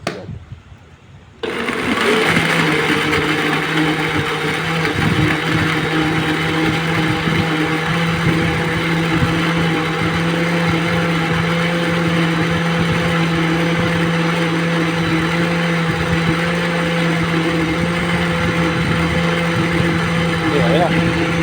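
Countertop blender whirring continuously while making a mango shake with milk and sugar, starting abruptly after a brief quiet moment and running loud and steady at close range, with people talking over it.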